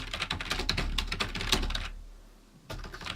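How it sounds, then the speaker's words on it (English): Fast, close typing on a computer keyboard, a dense run of key clicks that stops briefly, then a few more keystrokes. "I'm going to type some text in here"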